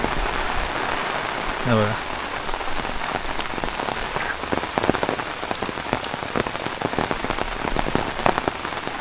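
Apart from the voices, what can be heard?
heavy rain falling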